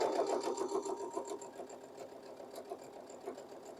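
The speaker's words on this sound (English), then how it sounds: "just sew a little bit and then readjust your fabric." A sewing machine stitches a quilt block seam in short, close bursts of rapid mechanical chatter that rise and fall as the fabric is stopped and readjusted.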